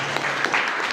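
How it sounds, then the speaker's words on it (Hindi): An audience claps in a dense, steady burst of applause with no voices over it. "चलिए बहुत ताली हो जाएगी, जबरदस्त।"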